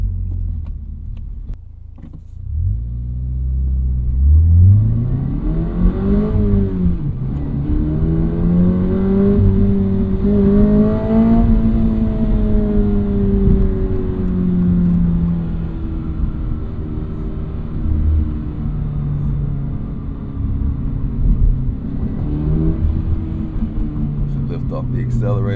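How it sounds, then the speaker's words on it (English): A 2025 Toyota GR86 Hakone Edition sports car accelerates, its engine and exhaust climbing in pitch through rising revs, then easing off the throttle into a lower rumble, loud and near. "Off the accelerator, you hear the characteristics of the exhaust"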